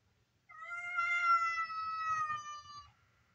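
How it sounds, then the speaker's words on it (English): A small neighbor's cat gives one long, clear, drawn-out meow close by, rising and falling over about two and a half seconds in an otherwise quiet room. "Oh, you must be Miss Pam's cat"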